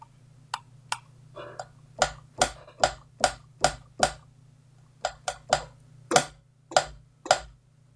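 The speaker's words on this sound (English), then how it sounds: "So those are the stylus taps" A series of sharp, light taps of a stylophone stylus in an uneven rhythm, some in quick pairs, close and crisp over a faint steady hum.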